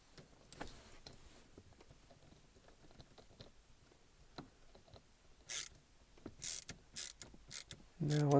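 A ratchet tool tightens the passenger side screw of a Jeep Cherokee shift knob, with quiet handling at first, then a series of short, sharp clicking bursts close by.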